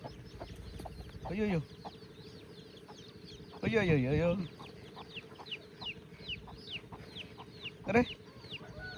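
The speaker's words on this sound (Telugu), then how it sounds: "9 పిల్లలను కాపాడింది ఈ కోడి అయితే చాలా గ్రేట్ ఎంత బాగున్నాయి చూడు కోడి పిల్లలు" A village hen guarding nine chicks clucks in a few short, loud bursts while the chicks keep up steady, high peeping in the background. No voices are heard.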